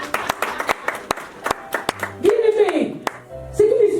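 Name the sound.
congregation applauding at ceremony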